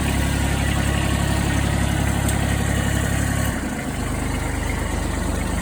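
A Kubota B7520 compact tractor's diesel engine cranks and catches, then settles into a steady, loud, close idle with an even low chug that continues to the end.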